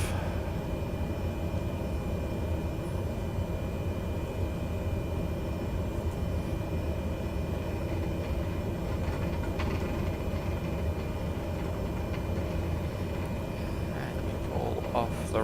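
Simulated airliner engines hum steadily while taxiing, a continuous low drone with a faint higher whine, with no spoken voices present.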